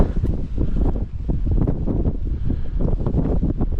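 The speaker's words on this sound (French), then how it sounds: "On est dans le vent fort là." Strong, steady wind buffets a high-altitude camp at about 5000 m on Aconcagua in the Andes at nightfall, a continuous low roar with gusty rumble against the microphone and no talk.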